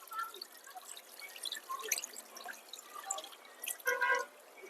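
Soft splashing, dripping and trickling of water as finger millet grains are washed by hand, quiet and close with scattered small drops.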